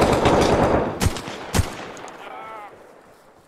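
Machine gun fire in the military video game ARMA Reforger: a dense, loud burst of rapid automatic shots, then two separate sharp reports, a quieter stretch and one last abrupt crack.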